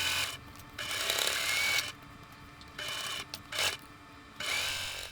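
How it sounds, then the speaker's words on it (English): Sewing machine stitching pinned quilt block rows together, a steady whirring hum in several bursts of about a second each separated by short pauses, close and moderately loud with no speech. "For block number 2, I'm sewing the rows together."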